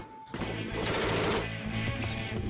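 An FN Mach 48 light machine gun fires a rapid, sustained burst of loud, dense shots that starts abruptly and continues to the end.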